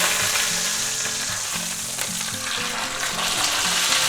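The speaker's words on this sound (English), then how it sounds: "There's nothing like a nice piece of beef sizzling in a pan, is there?" A flipped chuck roast steak sizzles loudly and steadily in a hot pan, a dense close frying hiss with no talk.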